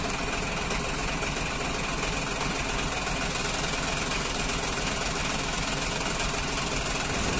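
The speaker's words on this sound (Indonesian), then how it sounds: "Oke, ini ada traktor," Tractor engine idling steadily on a badly damaged road in Way Kanan, Lampung, a continuous low rumble with knocking vibration held at constant loudness over broadband traffic and outdoor noise, with no break throughout.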